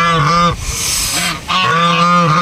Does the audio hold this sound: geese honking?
yes